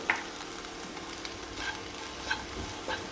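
Tomato, onion and capsicum with salt being sautéed in a pan, a steady soft sizzle broken by a few light stirring scrapes, close and fairly quiet with no voices.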